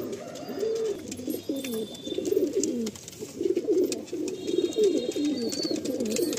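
Pigeons at a pigeon sale coo in a steady run of low, throaty, repeated calls, close and clear throughout with no talking.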